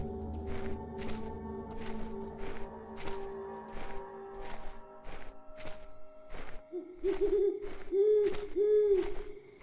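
An owl hoots in the video game Eleusis, a steady series of soft hoots over thudding footsteps and ambient game tones, with no one talking.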